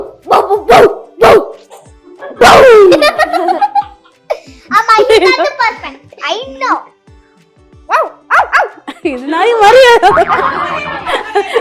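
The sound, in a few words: child imitating puppy barking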